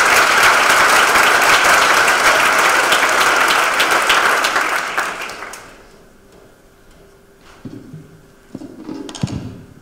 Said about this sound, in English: please give a huge round of applause to Gareth Quinn.